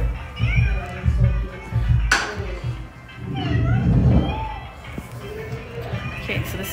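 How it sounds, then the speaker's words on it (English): A small pet cat gives a few short meows, mixed in among people talking nearby and some household bustle. "Little kitty cat."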